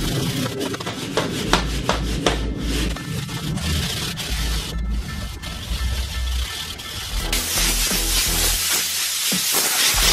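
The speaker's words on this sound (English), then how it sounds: "So I'm just gonna skim over these things with this little Brillo pad, man. Just lightly scuff it, get rid of the shine" A small Brillo pad scuffs a Blazer S10 accessory part before priming, a run of close, rough rubbing strokes that turns into a steadier, brighter scrubbing hiss near the end, with no talk.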